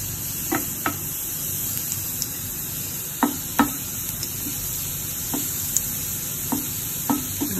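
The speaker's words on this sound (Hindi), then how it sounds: "लहसुन डालने के बाद इसको थोड़ा सा हिला दीजिए थोड़ा सा इसको ब्राउन होने दीजिए" Garlic sizzles steadily as it browns in a pan while a utensil scrapes and clicks against it in a few irregular stirring knocks.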